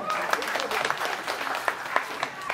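An audience at a panel discussion breaks into applause, a dense, steady clapping close by with a few sharper individual claps, and faint voices mixed in.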